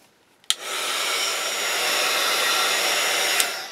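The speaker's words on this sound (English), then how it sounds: "I'm going to dry it." A hair dryer clicks on and blows steadily to dry paint, a loud even whirring hiss lasting about three seconds before it clicks off; no talking.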